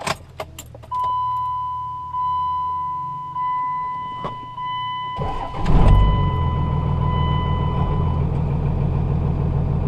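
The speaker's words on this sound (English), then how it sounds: "So now we'll just start the truck and test her out." A truck engine cranks over after a few clicks and a long steady warning chime, catches and settles into a loud, even idle; no one speaks.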